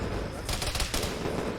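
Rapid bursts of automatic gunfire rattle in a Star Wars-themed ARMA 3 battle, two loud clusters of shots close together, set against a steady background of combat noise.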